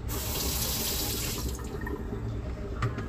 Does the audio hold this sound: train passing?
no